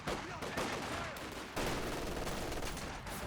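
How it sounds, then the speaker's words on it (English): Faint, continuous battle din from Company of Heroes 2, with rifle grenades and MG42 machine-gun fire blending into a dense rumbling wash, a sharper burst partway through, distant and low in level. "I hear multiple rifle grenades firing."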